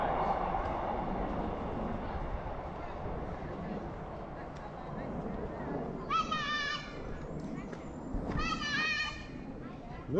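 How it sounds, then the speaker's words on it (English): A distant train rumbles past under children's voices and chatter, with two high, wavering tones sounding partway through. "There's one of those trains on the train line we were just talking about"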